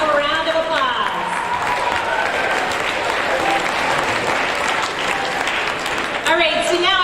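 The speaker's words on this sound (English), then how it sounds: "All right, give them a round of applause." An audience at a 7th grade awards ceremony applauds its teachers with dense, sustained clapping that fills the space for several seconds, a few voices and cheers rising through the steady roar.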